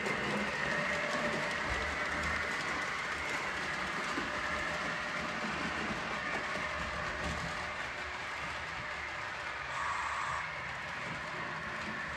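Märklin H0 model train running steadily on a small home layout with DB E03, SBB Ae 6/6 and SNCF BB 22200 locomotives, giving a continuous quiet rumble and faint rail clatter throughout.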